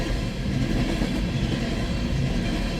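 A rebuilt CN SD75IACC locomotive hauls bitumen oil empties past at Ladysmith, Wisconsin: steady, dense rumble and clatter of wheels and cars, moderately loud and continuous without a break.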